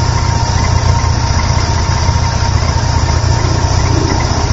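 A 1955 Chevy six-cylinder engine fitted with an Offenhauser dual carburetor intake and a Fenton split dual exhaust manifold idles steadily, giving a continuous, loud, even low rumble with no talk over it.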